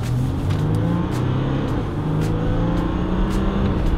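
A Jeep Wrangler EcoDiesel accelerates hard, its turbodiesel engine building a steady, loud, close drone as the turbo spools up, with no one talking over it.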